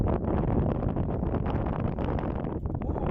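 Strong wind buffets the microphone in a steady, loud rumbling roar with no voices.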